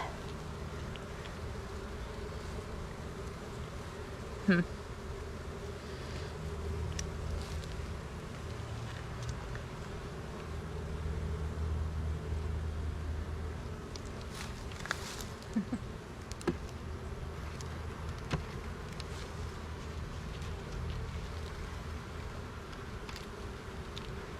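Honey bees droning around the side of a hive: a continuous low buzzing hum from many bees, with individual bees passing close now and then, steady and fairly quiet with no talk.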